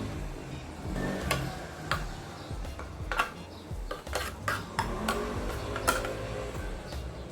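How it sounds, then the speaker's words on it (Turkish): Tuna is tipped into a salad bowl, with a run of sharp metallic clinks and taps of can and utensil against the dish, close and fairly loud over soft kitchen background. "Ton balığını da döküyorum."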